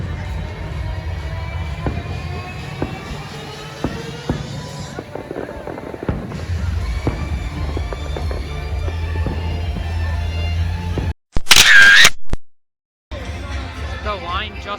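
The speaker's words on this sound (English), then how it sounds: "It's the first time I've seen the fireworks from International Street in a while" Fireworks bursting over Kings Island amusement park, seen from International Street, a steady run of pops and booms at moderate distance with crowd murmur and a person talking over them.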